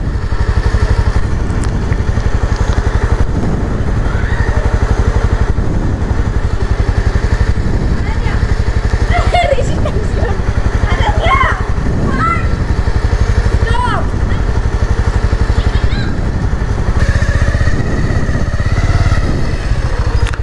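A Rapido bike taxi motorcycle engine runs steadily throughout, a loud continuous close drone while riding, with faint speech-like sounds mixed in the wind and road noise.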